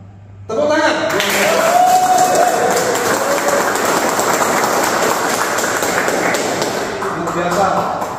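Applause breaks out in a lecture-hall setting during a military polytechnic lecturer certification session, a steady broad clapping that swells in and holds for several seconds at fairly close range, with some voices mixed in.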